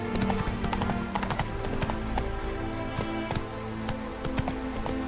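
Hoofbeats of Roach the horse trotting through The Witcher 3: Wild Hunt, a steady clip-clop rhythm up close over a constant game background, with a faint whinny mixed in.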